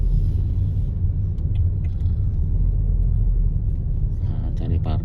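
A 2002 Peugeot 406 automatic climbs a steep mountain road on Mount Galunggung near Tasikmalaya, its engine a steady loud low rumble throughout, with faint clicks and a brief higher engine whine near the end.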